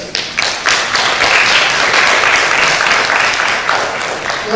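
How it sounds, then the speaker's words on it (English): Steady, dense applause from a crowd, sustained at an even level for several seconds with no voices over it. "Please clap for the organizers."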